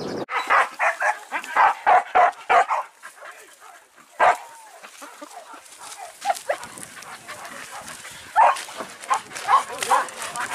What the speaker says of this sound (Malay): Anjing diledoki dulu itu.